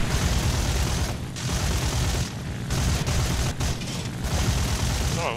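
Heavy, continuous aircraft gunfire and engine roar in War Thunder build a loud, dense mechanical rattle. It has brief dips in intensity and no voices above it.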